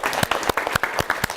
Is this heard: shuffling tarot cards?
no